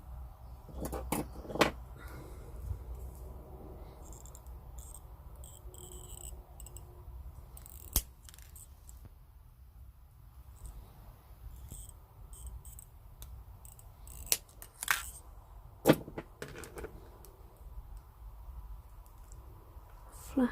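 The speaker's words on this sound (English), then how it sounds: "So now we just need to cut these extra wires off." Wire cutters snip off the extra wire ends of a wire-wrap rose bud pendant, giving a few sharp isolated clicks over a quiet, noisy room background.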